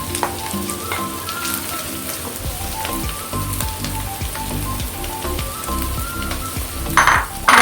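Carrots tossed into a hot pan for a vegetable noodle dish, a constant loud sizzle with scattered clinks and stirring knocks, and a sharp burst of spattering near the end.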